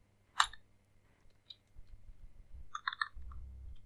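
Computer keyboard typing while coding a button for an Android piano app: one sharp click followed by a few faint taps, then a quick cluster of keystrokes near the end, all soft and close over low background hum.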